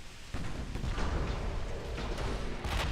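Naval artillery fire from warships in the game Ultimate Admiral Dreadnoughts, a dense sustained rumble of booming cannon fire with a sharper burst near the start and another near the end, loud and continuous with no talk.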